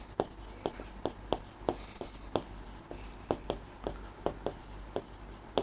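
A hand writes out a pictograph table with a pen or pencil, making a steady series of short, distinct scratching strokes in a regular rhythm, close and clear over a quiet background.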